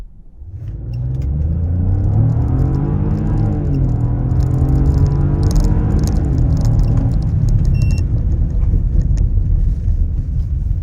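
A 2025 Genesis GV80 Coupe SUV's engine rumbles and builds as it accelerates along a road, the pitch climbing steadily before settling into a smooth, continuous drone.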